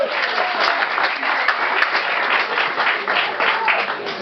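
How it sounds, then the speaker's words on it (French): A live audience applauds the sound engineer at a stage show, steady, full clapping throughout with some voices faintly mixed in. "Je vous demande d'applaudir celui qui est au son"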